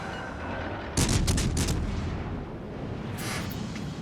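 Naval guns fire in the video game World of Warships Legends, with a sudden loud salvo of several rapid booms followed by a second, fainter volley a couple of seconds later over constant background rumble.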